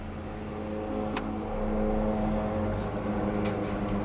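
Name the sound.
cars driving past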